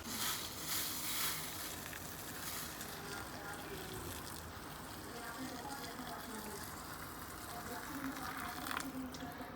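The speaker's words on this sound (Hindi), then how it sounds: "जो मार्क है ना वहाँ तक पानी भर दिया है मैंने" Water runs into a cooking pot on a home kitchen stove, a steady splashing rush that continues for the whole stretch at moderate loudness, with faint background noise.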